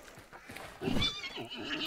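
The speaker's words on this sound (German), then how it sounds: "Oh, Pferd." In the video game Hunt: Showdown, a horse whinnies once, a short, fairly near neigh rising and trailing off against a low background hum.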